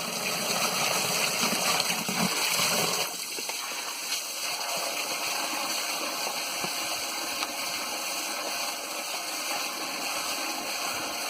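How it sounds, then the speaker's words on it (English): Steady rushing of water pouring out continuously through an overflow, a broad constant wash of noise with a low rumble that eases slightly after the first few seconds. "Got a lot of water going out."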